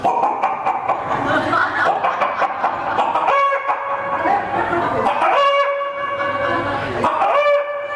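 A comedian on stage imitates a hen's clucking and cackling in repeated bursts, loud and close, with no words.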